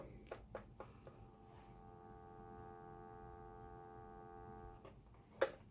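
A steady electronic dial tone from a 1969 RWT CB 663 telephone from Poland hums for about three seconds at low volume, preceded and followed by faint clicks and handling noises.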